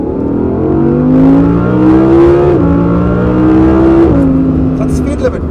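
A 2021 Audi R8 supercar with its quiet exhaust setting accelerates hard, the engine note climbing steadily through gears with brief dips at each shift, loud and close from inside the car.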